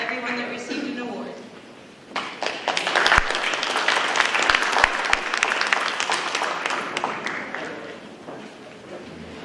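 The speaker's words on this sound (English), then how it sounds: "Everyone, a round of applause." An audience at a school board meeting applauds steadily for several seconds after a short stretch of quieter sound, then the clapping fades a little toward the end.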